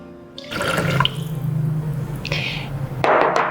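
Tamarind liquid poured into a Thermomix bowl over the mixing knife for a Nyonya asam fish curry, a steady watery pour running about two and a half seconds with splashy bursts near the end, close and fairly loud.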